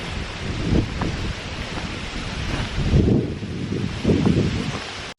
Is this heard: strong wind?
yes